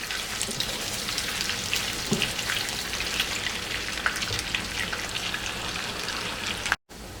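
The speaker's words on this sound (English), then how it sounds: "We've been cooking our pork belly now for about 10 or 12 minutes." Pork belly frying in a pan, a steady close crackle and sizzle of fat running throughout, with a few soft stirring knocks and a brief dropout near the end.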